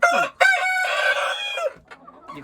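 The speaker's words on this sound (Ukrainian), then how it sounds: "О, півник співучий." A rooster, one of a batch of cockerels raised for fattening, crows once, loud and close. The long, harmonic call lasts nearly two seconds, then tails off into quieter clucking sounds.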